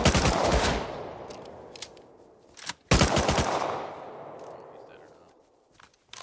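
An AK-5 rifle fires in a video game, in two loud, rapid bursts, each followed by a long reverberant tail that slowly dies away, with a few faint clicks after and no talk.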